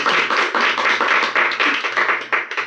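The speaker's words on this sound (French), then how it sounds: "on applaudit." Studio audience applauding after a correct answer on a French quiz podcast, a dense burst of clapping that holds steady for several seconds with no talk over it.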